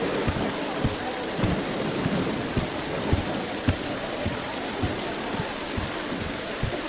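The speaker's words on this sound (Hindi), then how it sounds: "ये बारिश भी तुम्हारे मुबारक कदमों की बरकत से है मेरे बच्चे।" Steady rain falls with repeated low thuds of thunder recurring roughly every half second to second, a dense wash of hiss throughout with no clear talk.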